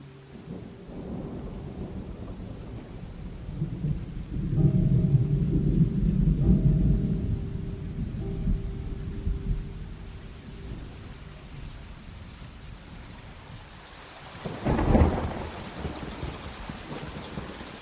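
Steady heavy rain hisses throughout, with a deep rumble of thunder swelling in the middle and a sharp, loud thunderclap near the end; no voices.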